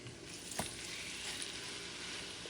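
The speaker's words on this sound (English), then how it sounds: "And I'm going to add the lamb chops." Lamb chops sizzling in a hot pan for Spanish lamb chops, a steady close crackling hiss with a single sharper pop early on, no voices over it.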